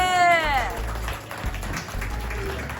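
Audience applause at an Eid party community gathering, a brief spoken voice at the start giving way to a steady wash of clapping that lasts to the end.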